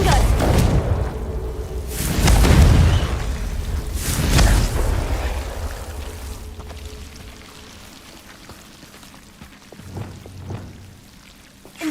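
Confringo fire-blast spells detonating in Hogwarts Legacy, two heavy booming blasts a couple of seconds apart with crackling debris, then quieter rumbling and a few softer thumps near the end.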